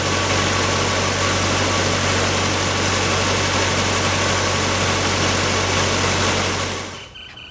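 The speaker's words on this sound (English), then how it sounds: "We just let the engine run for at least sort of 30 seconds to a minute" A Nissan Navara engine idles steadily and loudly after an intake cleaning, running with an even rumble and slight vibration for several seconds before cutting off.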